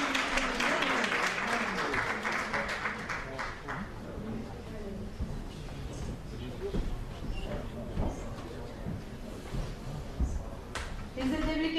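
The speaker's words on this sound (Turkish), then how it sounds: "Biz de tebrik ediyoruz. Alkışlıyoruz Sayın Akşahin'i." Sustained audience applause at the 7th JCI Istanbul Crossroads Short Film Festival award ceremony, dense clapping that fades and thins over time as a voice speaks over it.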